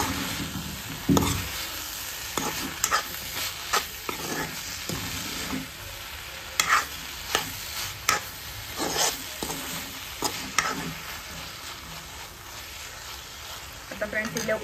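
Soya chunks sautéed in a hot pan give a steady close sizzle, broken by repeated sharp spatula scrapes and stirring knocks at an uneven pace.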